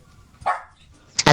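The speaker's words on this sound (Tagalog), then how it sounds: "tinahol na rin ako ng aso nila" A dog lets out a single sharp bark, then a second louder bark follows a moment later against a quiet background.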